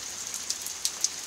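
Rain falling outdoors as a steady soft patter, with a few sharper drops landing close by.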